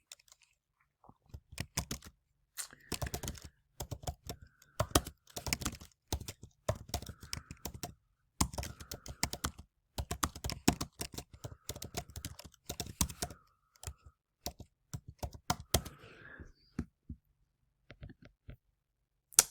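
Bursts of keystrokes clatter on a computer keyboard, near and fairly quiet, in uneven runs separated by short pauses, with no voices.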